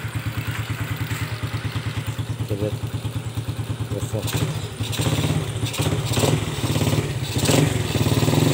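Honda C70 motorcycle engine idling and revving, a steady low pulsing rumble that grows louder and rougher toward the end, close by with people talking over it.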